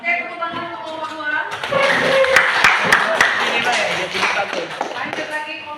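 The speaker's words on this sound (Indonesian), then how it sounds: "tepuk tangan untuk kelompok 2" A group claps for a presenting group in a classroom, the clapping rising to a loud, busy patter with a few sharp slaps, while voices talk over it.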